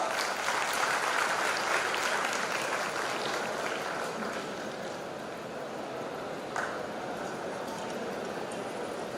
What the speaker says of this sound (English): And please welcome with a big round of applause.